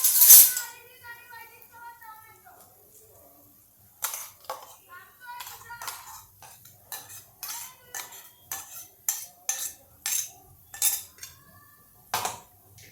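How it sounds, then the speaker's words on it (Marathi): A spoon scrapes green chilli and peanut chutney out of a grinder jar into a bowl, giving a run of sharp metallic scrapes and clinks in an uneven rhythm, close and moderately loud. "चटणी बोलमध्ये मी काढून घेतलेली आहे."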